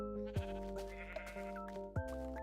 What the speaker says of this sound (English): Ooh, some sheep.